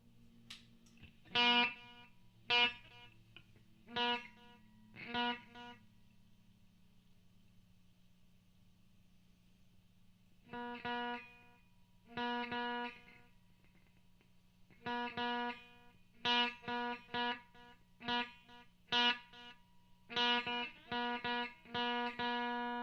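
Reverend Maverick electric guitar with P90 pickups played through a delay pedal, short plucked phrases and chords with echo tails, a pause in the middle, then steady clustered strumming over a low amp hum.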